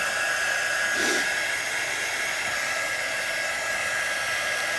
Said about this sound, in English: Now I'm going to dry this and see if I want to add any more.